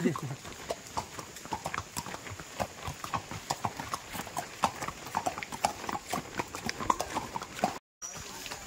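Rhythmic clip-clop of horse hooves on a hard surface in Matheran, steady and fairly close, with faint talk in the background.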